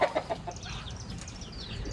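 Chickens cluck in a backyard coop kept alongside ducks and pigeons, with a few sharp clucks up front followed by steady, busy fowl chatter throughout.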